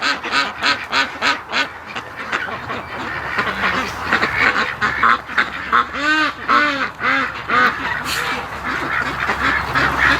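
A flock of ducks raised for charity quacks and honks loudly and nearby in a busy, overlapping chorus as they are herded along, with calls coming in quick irregular bursts throughout.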